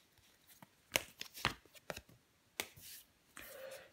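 Tarot cards handled and laid down on a table during a reading, a few quiet, separate slaps and rustles with short pauses between them, close by and soft, then a brief shuffle near the end.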